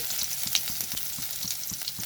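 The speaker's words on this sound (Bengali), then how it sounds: "এই তেলের মধ্যে দিয়ে দিচ্ছি রসুন" Garlic sizzles in hot oil with a steady, close crackle and small pops, no voices present.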